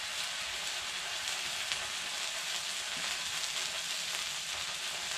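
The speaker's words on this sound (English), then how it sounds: "Now you hear the sizzling?" A roughly three-quarter to one-inch steak sears on a hot oiled griddle at about 435 degrees, giving a steady, even sizzle and crackle that runs unbroken and up close with no talk.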